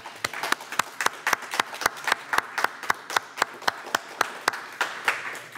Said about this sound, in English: Let's give one more round of applause to Gustavo, Susana, Tureeda, and Rafael